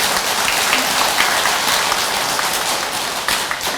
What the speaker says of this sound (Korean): 그때도 박수 한 번 더 쳐야 되는데.